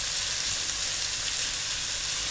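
Beef strips searing in a hot pan for a stir fry, giving a steady, continuous sizzle and crackle of frying meat, close and even throughout with no talking.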